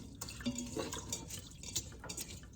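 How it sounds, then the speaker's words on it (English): Water poured into a pot of rice for cooking in an Instant Pot, heard as faint close splashing and dripping with small clinks of the pot. "now I'm gonna fill up the amount of water in this pot to cook the rice"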